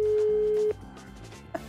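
A single long telephone call tone sounds steadily for about half a second and then cuts off, leaving a faint ringback-style hum and a brief click, with no one picking up the line.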